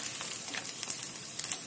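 Rice balls frying in hot oil, a soft steady sizzle with faint scattered pops and crackles, close and quiet.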